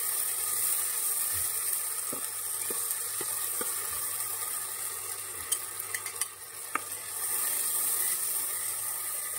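Ginger, cumin and green chili paste, ground with water, hits a hot frying pan for a banana-flower (mocha) curry, producing a continuous close sizzle with a few soft knocks and scrapes of stirring. No voices.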